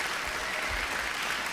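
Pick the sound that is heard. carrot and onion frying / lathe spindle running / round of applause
round of applause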